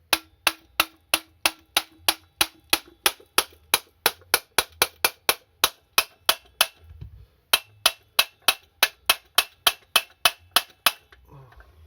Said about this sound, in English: when I hit it with the copper hammer, it won't mushroom over the crankshaft.